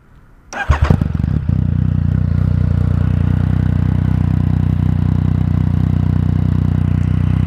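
A Yamaha MT-09 motorcycle engine cranks and fires up with a clattering start, then settles into a loud, steady, throbbing idle.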